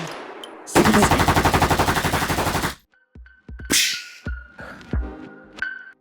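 Rapid burst of automatic gunfire, loud and close, a sustained rattling volley of evenly spaced shots lasting about two seconds, followed by scattered sharper bangs and clicks.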